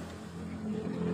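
A Yamaha RX-King motorcycle engine running cold with a flooding carburettor, a low, uneven idle rumble that grows slightly louder over a brief moment, close to the microphone.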